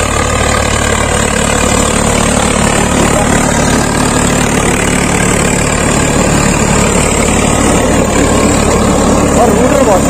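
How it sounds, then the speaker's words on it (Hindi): A heavy Swaraj 855 tractor engine churns loudly and steadily with an 8-foot rotary tiller grinding through hard soil, constant and close, while someone talks over the noise. "और रूटर बहुत शानदार चल रहा है"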